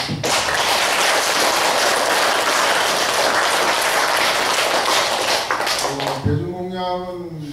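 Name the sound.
applause of thanks at a temple service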